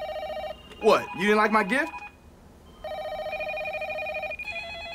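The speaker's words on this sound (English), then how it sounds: "he's got every line in the office ringing at once" Office telephones sound as steady electronic ringing tones before and after a brief stretch of talk, with several lines seeming to ring at once.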